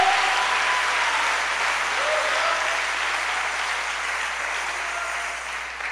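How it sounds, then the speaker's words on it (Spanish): A church congregation clapping hands together in a sustained burst of applause, dense and steady for several seconds and tapering slightly at the end, with faint voices mixed in. "Démosle palmas al Señor, hermano."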